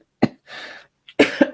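A person coughs at close range: a short sharp cough, a breathy rasp, then a cluster of three rapid harsh coughs in quick succession.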